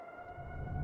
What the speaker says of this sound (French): C'est la sirène d'inondation de Manitou.